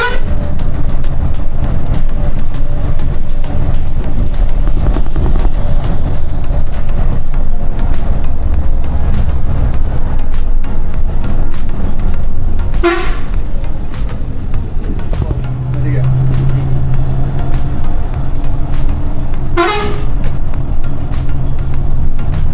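A Volvo 9600 multi-axle AC bus runs along a road in Assam, heard from inside as a steady, loud engine and road rumble with a couple of brief horn toots from passing traffic.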